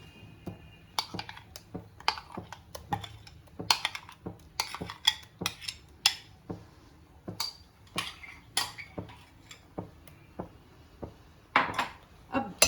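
Dry fruit paste is stirred and roasted in a pan for khuskhus halwa. A spoon scrapes and knocks against the metal in a long run of sharp, irregular clicks and taps, close and moderately loud, with no voices.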